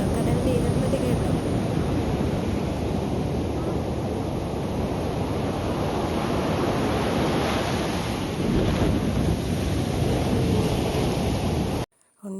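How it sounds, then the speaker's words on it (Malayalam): A loud, steady roar of sea waves crashes on the shore just after heavy rain. It runs unbroken with wind buffeting the microphone, then cuts off abruptly near the end. "കേട്ടോ, കടലിൻ്റെ ഇരമ്പല് കേട്ടോ?"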